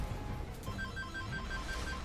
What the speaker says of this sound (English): And now there's a phone ringing.